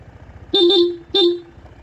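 The stock horn of a Honda ADV 160 scooter honks three times: two quick beeps, then a single one, each a bright, nasal, close tone that stands alone without talk.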